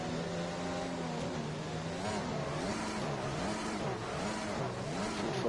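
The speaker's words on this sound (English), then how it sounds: "Fulfil just revving his car a little bit" An F1 car engine in the F1 2021 racing game, from a sprint race at the France circuit, holds a steady, loud rev that rises and falls in pitch, droning continuously without pause.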